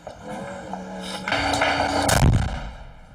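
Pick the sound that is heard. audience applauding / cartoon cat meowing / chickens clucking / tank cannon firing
tank cannon firing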